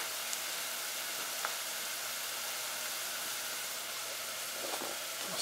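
Brisket meat hitting a pot of softened onions for smoked brisket chili, a steady low sizzle with faint occasional pops and clinks, no voices.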